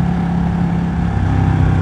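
A Ducati 1199 Panigale twin-cylinder sport motorcycle engine drones steadily at close range, a low throbbing rumble holding even throughout with no clear rise in revs.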